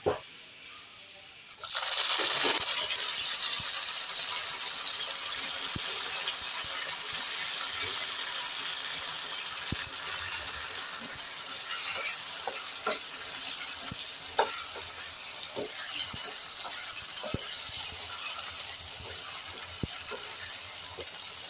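Beef dropped into a hot pan for Kerala-style beef curry, bursting into a loud, continuous sizzle with occasional stirring clinks and scrapes.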